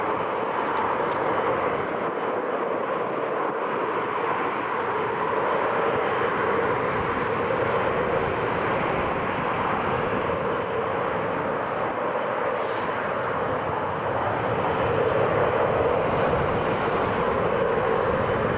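An Emirates Boeing 777 taxiing toward the runway at Newcastle International Airport, a loud, steady low engine rumble and roar that holds evenly throughout without a break.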